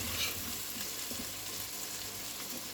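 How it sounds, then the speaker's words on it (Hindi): Mixed vegetables frying in oil in a pot for a winter curry, giving a steady, even sizzle throughout at moderate volume with no talking. "तो सारे वेजिटेबल्स को फ्राई करते हुए 4 से 5 मिनट हो गया है।"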